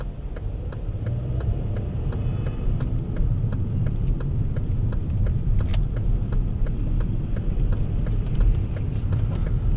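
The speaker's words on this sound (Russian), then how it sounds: "Время сейчас утро, машины идут одной чередой." Steady morning traffic on a busy street, with cars passing in a continuous line as a constant low rumble, with faint regular ticking on top and no talk.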